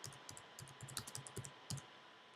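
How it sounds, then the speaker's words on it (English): Someone types a name on a computer keyboard in a quiet room, producing a quick, uneven run of soft, close key clicks. "typing a name into the search box."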